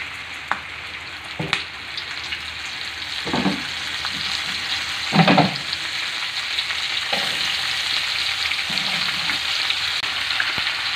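Cooking oil sizzles in a hot pan, a steady hiss underneath with several louder crackling bursts and spatters spread across the stretch, no voices.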